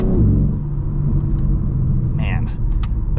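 A BMW G80 M3 Competition accelerates with a deep, loud, close exhaust rumble. A few sharp exhaust pops and crackles cut through, and someone talks over the engine.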